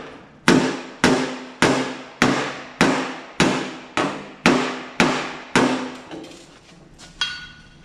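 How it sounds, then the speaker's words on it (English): Small hammer tapping a steel panel on an XE Falcon car: about ten crisp, evenly spaced metallic hits, close and loud, each ringing out briefly before the next. "it's not big hits with the hammer. It's a series of small controlled hits."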